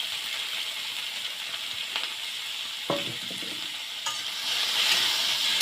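Garlic cloves, green chilli and chopped banana peel frying in hot oil, a steady sizzle broken by a few scraping stirs and a metallic clink, rising slightly louder toward the end, no voices.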